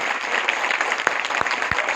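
Dense applause from an audience fills a training hall at a leadership session, steady and close, with a few sharp individual claps standing out.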